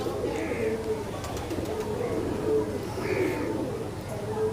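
Domestic flying pigeons coo in soft, repeated throaty rolls, with several calls close by over a low background murmur.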